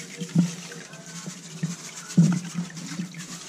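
Hydroponic nutrient solution poured into water for a ten-gallon reservoir on a farm in the Philippines, a soft irregular trickling and splashing with a couple of louder gushes, close and fairly quiet.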